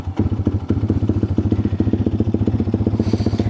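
A Honda Grom clone motorcycle fitted with a swapped 212 engine and a different muffler runs close by, a loud, rapid, even single-cylinder chug with rhythmic pulsing exhaust beats and light mechanical clatter, steady throughout.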